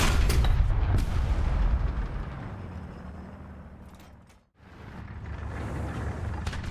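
A KV-1 tank cannon firing in War Thunder: a heavy, booming shot at the start that rolls off into a long fading rumble, then a brief gap and a rising engine and battle roar.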